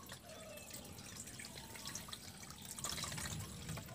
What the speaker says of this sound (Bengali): এবার এই জলটা দিয়ে ধুয়ে নেবো